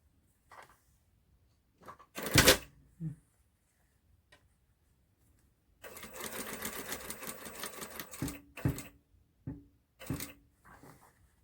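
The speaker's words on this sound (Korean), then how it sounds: "자, 3cm 여유 분량 부분은 미리 박아주고 이렇게 미리 박았습니다." A sewing machine stitches the 3 cm seam allowance on a waistband in one steady, rapid mechanical run of about two seconds. Scattered clicks and fabric handling surround it, and the room is otherwise quiet.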